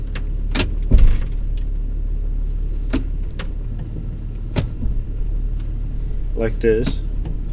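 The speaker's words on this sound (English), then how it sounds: "When I put it in gear, I still have that clunk." A Jeep's transmission clunks as it is shifted into gear: one dull thud over a steady low engine idle, followed by scattered light clicks and rattles, with a short spoken remark.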